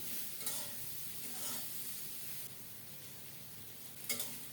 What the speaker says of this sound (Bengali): করলাগুলো খুব সুন্দর মতো ঝরঝরে করে ভেজে নেব